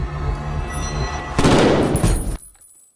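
A gunshot in a film scene, a man firing on someone who appears to draw a pistol, bursts out as one loud, broad blast with a rough echoing tail of about a second, after quieter dramatic background sound, then cuts to near silence.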